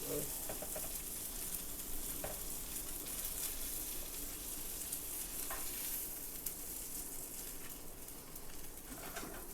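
Ruffed grouse frying in a pan at an outdoor bush cook, a continuous soft sizzle and hiss running throughout, with faint bird calls and occasional small clicks in the background.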